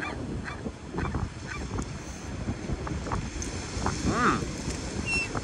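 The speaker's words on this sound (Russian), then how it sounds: "Так, чайки, уйдите." Seagulls calling outdoors near water, a few sharp squawks rising over steady wind rumble and surf noise, at moderate distance.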